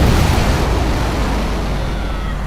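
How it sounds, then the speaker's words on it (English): Huge explosion in a mobile strategy game, a loud broadband roar that hits at once and slowly decays into a rumbling wash. "That was a huge explosion."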